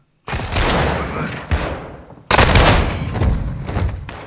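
Heavy automatic gunfire in the Modern Warfare 2 video game, with bullets striking an enemy. Two loud, close, dense bursts are separated by a short gap, and impacts thud throughout.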